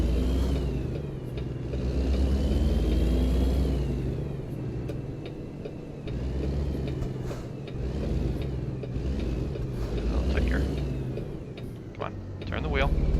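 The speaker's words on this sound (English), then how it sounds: "I'm gonna enable the mod for the new upgraded truck sounds for the W900" A Kenworth W900 truck engine in a video game rumbles and revs low and steady, with mechanical clatter and occasional clicks layered on top.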